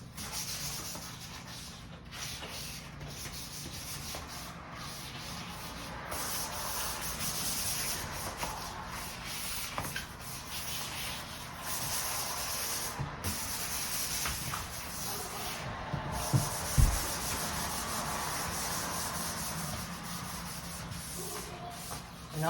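Light hand sanding of painted door surfaces with a flexible sanding sponge, a soft continuous rubbing and scratching under faint background noise, close by and steady, with occasional handling bumps.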